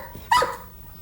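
Sean the dog lets out a single sharp bark on command in a television studio, close and bright, with a low murmur of room noise underneath.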